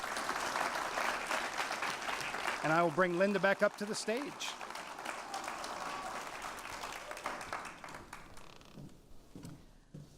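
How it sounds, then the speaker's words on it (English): A panel-discussion audience gives the panelists a round of applause, a loud, steady crowd clapping that fades slowly, while a speaker talks over it partway through. "Let's give our panelists a round of applause"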